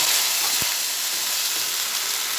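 Chopped onions, bay leaves and a ground spice paste fry in hot oil, giving a strong, steady, close hiss of sizzling with one brief low knock.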